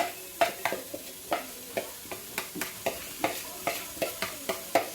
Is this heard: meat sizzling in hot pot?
yes